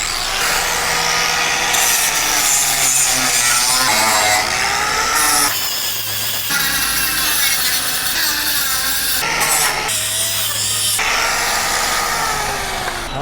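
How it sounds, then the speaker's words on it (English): An angle grinder cleans up metal edges on a 62 Chevy C10 pickup bed panel before welding, with a continuous loud, harsh grinding that shifts in pitch as it works across the metal. "I gotta hit this with the grinder still and clean up all these edges for welding, get it ready for welding"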